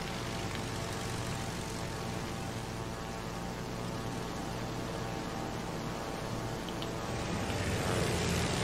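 Droning engines of HE bomber aircraft in World of Warships Legends, a steady broad hum holding throughout, moderately loud and swelling slightly toward the end.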